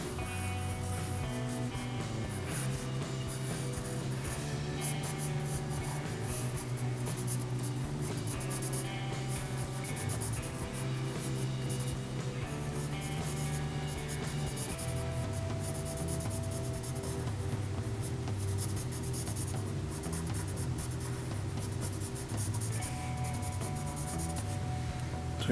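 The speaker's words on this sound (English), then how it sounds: "So we can actually sketch the hand right away." A pencil sketches a hand on paper in continuous close scratching strokes, steady and fairly quiet for the whole stretch, with no talking.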